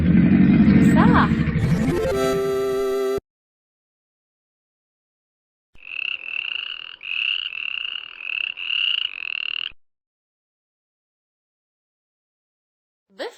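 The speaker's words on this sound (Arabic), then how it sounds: "ضفدع." A series of rhythmic frog croaks, about five pulsing bursts in quick succession, follows a brief musical jingle, then silence.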